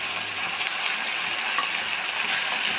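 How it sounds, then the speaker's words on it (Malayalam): Fried potatoes for chilli potato drop into a hot pan and sizzle, giving a steady, close, broadband frying hiss that stays fairly even throughout with no talking. "പിന്നെ നമ്മൾ ഫ്രൈ ചെയ്ത് വെച്ച ഉരുളൻകിഴങ്ങ് ഞാൻ ഇതിലിടണം."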